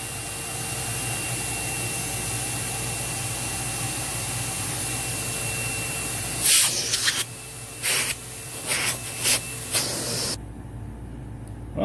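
Dirt Devil Ultra vacuum cleaner running during an airflow box test, a loud steady whooshing hiss with a faint whine that holds for most of the stretch, then gets choppy with a few bumps and knocks before the noise drops sharply near the end.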